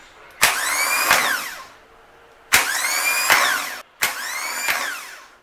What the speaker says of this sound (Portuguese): na hora que eu encostar aqui no positivo, o impulsor de partida vai para lá e ele começa a girar